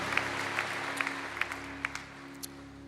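A church congregation claps together in steady, moderately loud applause, with a low hum and tonal background sound running beneath the clapping.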